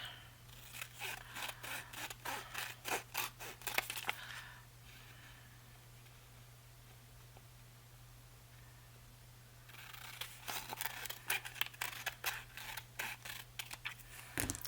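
Scissors snipping paper to trim a No.10 envelope wrap-around pocket: rapid close runs of crisp cuts at the start and end, separated by a quiet pause with a low steady hum underneath.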